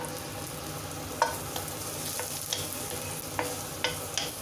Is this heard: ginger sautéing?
yes